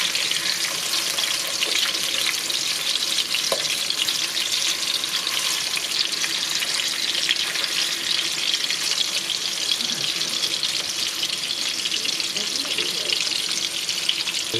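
Halibut fillets sear presentation side down in a hot pan over medium-high heat, giving a steady, even sizzle of frying oil that holds at one level throughout with no talking.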